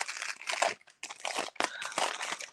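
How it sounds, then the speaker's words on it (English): Crinkly plastic bag wrapping around a Roman Szmal watercolor set is handled up close, giving bursts of dry crackling and rustling in uneven waves with short pauses and no voices. "And then it will be wrapped in the plastic inside."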